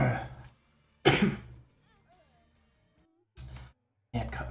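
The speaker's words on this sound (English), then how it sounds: "Clearly I can't cough and play at the same time." A man with allergies coughs in short bursts while gaming indoors, two coughing fits at the start and around one second, then two more near the end, close and fairly loud with quiet gaps between.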